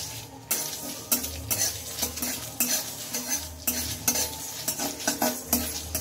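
Green chillies sizzle in a pan as a utensil stirs and scrapes against the metal in a quick, repeated rhythm, close and clear with no voices.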